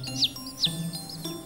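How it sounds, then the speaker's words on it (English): Newly hatched baby birds chirp in a nest, several thin high peeps spaced at a steady rhythm, faint and close with no talk over them. "The chicks have all hatched now."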